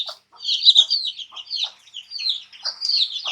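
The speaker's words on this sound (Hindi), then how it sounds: "आप देख सकते हैं यहाँ पर मुर्गी बैठी हुई है पहले से।" A hen clucks in a cage among her chicks, with soft low clucks mixed into a near-continuous stream of high, rapid peeping close by.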